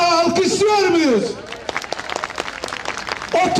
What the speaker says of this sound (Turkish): Tütün mitingi yapanları bugün bir kez daha alkışlıyor muyuz?